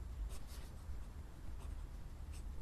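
Pencil sketching the emerald-cut stones of a ring on paper, soft continuous scratchy strokes with a few brief louder swishes, close and quiet, no talking.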